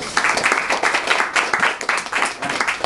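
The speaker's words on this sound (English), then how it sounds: "everybody give her a nice round of applause" A crowd gives a round of applause for a girl called up from the audience, close, lively clapping in uneven surges that runs for a few seconds without talk.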